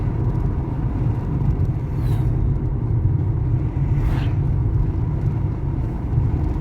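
Cars passing and overtaking on Kiambu Road in Nairobi. A steady, loud low rumble of road traffic is heard nearby, with faint swooshes of passing vehicles and no voices.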